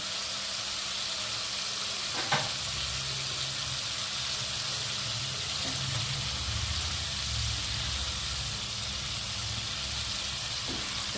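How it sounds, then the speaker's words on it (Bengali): Fish frying in hot oil for a spicy Bengali-style fish curry, a soft continuous sizzle with a faint low hum and a few small clicks and pops, no voices. "তেল ছেড়ে দিয়ে দেবো মাছটা দিয়ে দেবো"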